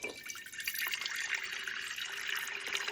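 Water pours steadily from a coffee jug into the reservoir of a Rancilio Silvia espresso machine, a close, continuous splashing trickle with no talk.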